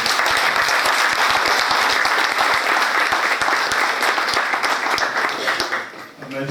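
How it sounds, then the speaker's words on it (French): Loud, sustained applause from a conference audience in Denmark, many hands clapping steadily close by for several seconds before tapering off at the end. "Et je vous demande d'applaudir pour eux."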